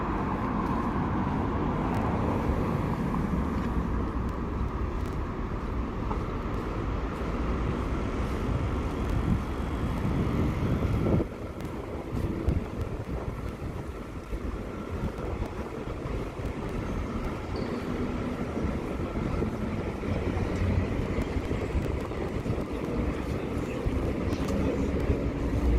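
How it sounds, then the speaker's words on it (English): Strong wind blowing along Nevsky Prospekt, a city street, as a steady, loud broadband rush and rumble that never lets up, mixed with distant traffic noise. "There's a strong wind,"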